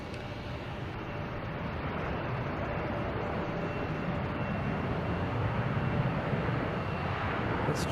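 A Japan Airlines airliner arriving at Boston Logan Airport, its jet engine roar steady and moderately distant, slowly swelling over the clip.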